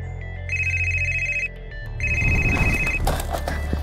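A telephone rings with an electronic ringtone: two steady one-second ring bursts separated by a short pause, loud and close, while broadband background noise swells in after the first ring.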